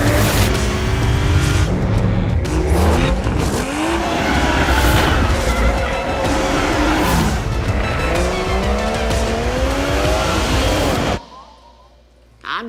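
A 2022 Toyota GR Supra driven aggressively, its engine revving up and down through repeated gear changes with tire squeals and skidding, loud and close, before the sound cuts off abruptly near the end.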